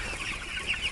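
Chickens on a broiler poultry farm cluck and murmur as a steady, close flock chorus, with no talk over it.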